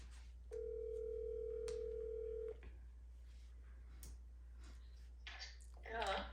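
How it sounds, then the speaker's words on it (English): Outgoing phone call tone: a single steady electronic tone lasting about two seconds, faint and close, followed by clicks, rustling and brief voice sounds. "Now I'm gonna call her on my phone to see if she pick up"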